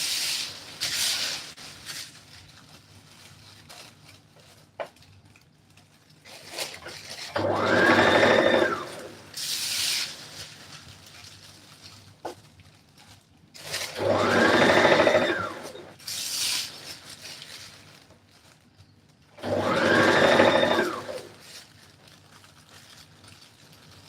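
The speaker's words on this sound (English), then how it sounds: "So make sure you sew something very thin." Sewing machine stitching thin dress fabric in three loud, steady bursts of a few seconds each, separated by quieter pauses with faint handling noise.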